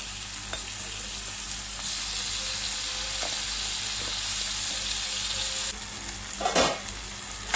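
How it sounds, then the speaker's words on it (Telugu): Tomatoes with ginger-garlic paste, coriander and cumin powder sizzle steadily in hot oil over browned onions, a continuous close frying hiss with a few brief stirring scrapes and bumps. "టమాటాలు అనేది ఆయిల్లో మగ్గుతాయి కదండి"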